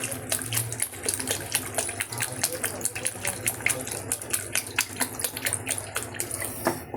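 Water pouring from a tap into a pan of ground dal paste for a gondhoraj lime dal, a steady gushing splash with irregular splattering, close and moderately loud throughout.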